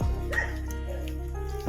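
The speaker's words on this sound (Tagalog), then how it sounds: "May aso po." A dog barks and yips a couple of times nearby, with a short whimpering edge, under faint background noise.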